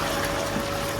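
Water being poured by the litre into a large pot of Bannu beef pulao holding bones and meat, a continuous loud rushing splash with no pause.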